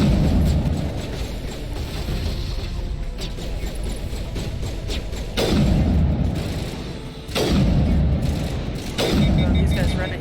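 Gunfire and heavy booms fill a firefight in Mass Effect Legendary Edition, a dense continuous roar broken by several louder blasts, loud and close.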